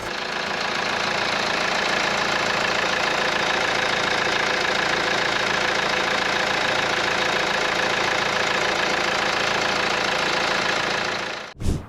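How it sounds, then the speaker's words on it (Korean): A 2015 Kia Sportage R SUV engine with about 70,000 km idles steadily and evenly, a close, continuous rumble with faint knocking, cutting off abruptly at the end. "엔진 소리 상태 확인해 보도록 하겠습니다."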